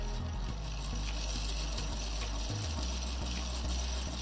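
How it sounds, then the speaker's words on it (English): A 775 motor drives a 3D-printed planetary gearbox, making a loud, continuous mechanical whir with a rattling, ratchet-like gear chatter and low rhythmic knocks throughout. "I have a motor speed controller here, which is connected to the motor and the gearbox."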